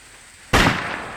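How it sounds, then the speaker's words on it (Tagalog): A bow fired in a video game gives one sudden, loud, booming blast like a shotgun, which tails off with a short noisy decay. "Parang shotgun talaga mga lods yung tunog ng pana ko."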